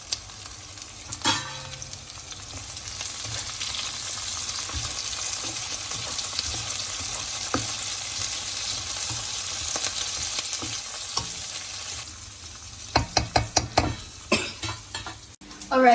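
Ivy gourd pieces frying in a pan are stirred steadily for about twelve seconds, a continuous loud sizzle. A run of sharp clanks from the spatula or pan follows near the end.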